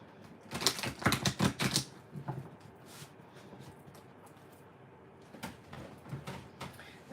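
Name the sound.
shuffling tarot cards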